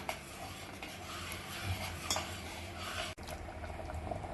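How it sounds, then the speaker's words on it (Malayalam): Coconut milk is stirred in a pot with soft swishing and occasional light clinks of a spoon against metal, over a faint bubbling simmer, while cooking wheat payasam. "ഇതിലേക്ക് ഒഴിച്ചു കൊടുക്കാം. ഇത് നല്ലോണം ഇളക്കി മിക്സ് ചെയ്ത് വീണ്ടും തിളപ്പിക്കാം"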